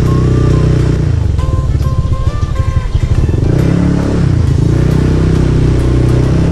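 A motorcycle engine drones steadily and loudly throughout, holding a continuous hum as it rides along with slight shifts in pitch.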